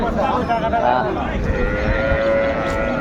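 Milk cows and calves low and moo repeatedly at the busy Raniganj cattle market in Dinajpur, drawn-out calls overlapping against a constant crowd murmur.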